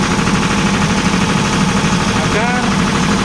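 A diesel generator in a power station idles during its cool-down period, a loud steady engine rumble with a dense rhythmic knock that runs unbroken throughout, while a person speaks faintly under the engine.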